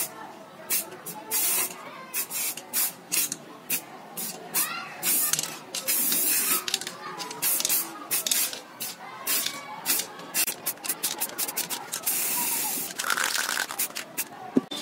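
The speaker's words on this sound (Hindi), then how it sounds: "दोस्तों इसको ब्लैक करने के लिए मैं इस स्प्रे कैन का यूज करने वाला हूँ।" Repeated short bursts of aerosol spray paint coat a Pulsar 150 motorcycle grab rail black, close and loud, each hiss cutting off sharply with brief gaps, ending in a longer steady spray.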